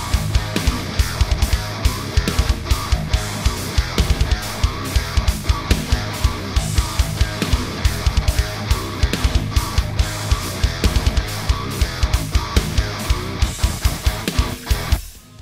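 A dense, loud djent metal song, mixed but unmastered, with pounding drums, tight chugging down-tuned guitars and a rapid stop-start rhythm, no talking.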